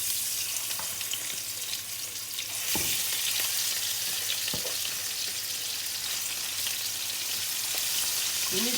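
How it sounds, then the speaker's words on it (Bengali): Hilsa fish shallow-frying with turmeric and salt gives off a steady, dense sizzle with crackling spits throughout, and a few sharper pops and spatters stand out above the constant hiss. "আমি হলুদ আর লবণ দিয়ে মাছটা ভাজি করব।"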